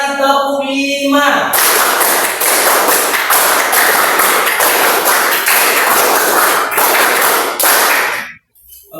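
A classroom of students claps together in a rhythmic counting pattern, a dense, loud run of hand claps with regular accents lasting about seven seconds before stopping abruptly.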